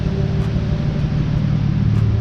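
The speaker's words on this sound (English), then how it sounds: "doing a quick dyno pull on this car" A tuned BMW M4 runs on a dyno, giving a steady loud low engine roar and rumble with broadband noise, close and continuous for a couple of seconds.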